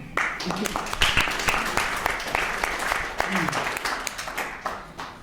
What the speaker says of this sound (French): Merci Daniel, qu'on peut applaudir.